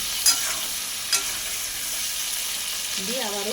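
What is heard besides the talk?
frying and stirring potatoes and pointed gourd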